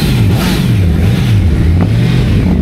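A motorcycle engine revs loudly and close by at a big bike and car meet in Palawan, its pitch rising and falling in repeated throttle blips over a constant rumble.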